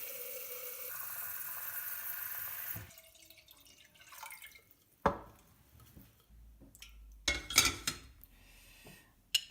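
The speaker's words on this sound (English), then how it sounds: "So take the pot and measure out 1 liter of water." Water runs steadily into a cooking pot for pickle brine for a few seconds. Then it stops, followed by scattered drips and clinks of metal.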